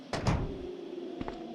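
A door opens in the video game Resident Evil 2, two quick thuds followed by a low creaking sweep and another pair of soft knocks, close and moderately loud.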